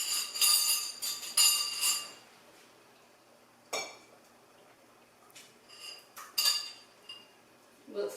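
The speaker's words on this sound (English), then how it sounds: "And we can slice the cornbread" A knife cuts through homemade cornbread on a plate, giving close, bright clinks and scrapes in several short bursts separated by quiet gaps, with no talking.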